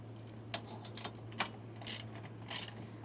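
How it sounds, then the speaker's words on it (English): A socket wrench ratchet turning to tighten a nut on an RV scissor jack pad of a 2016 Dutchmen Kodiak travel trailer, giving a quick series of close, crisp clicks in short bursts over a faint steady hum. "we're going to grab our 5/8 wrench and an 11/16 socket and tighten these on"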